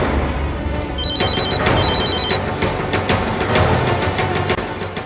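A telephone rings at a hotel reception, repeated electronic trills in two clear bursts over steady background noise, with no talking.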